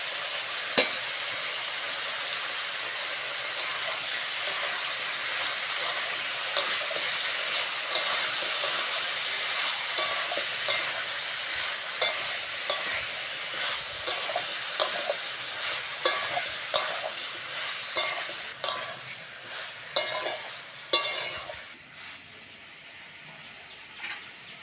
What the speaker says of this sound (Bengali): মশলাগুলো দিয়ে ভালো করে কষে নিয়েছি